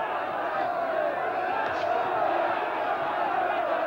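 A boxing arena crowd on its feet cheering and roaring after a hard-fought bout, a steady dense wall of crowd noise heard from a distance, with a commentator's voice faintly under it.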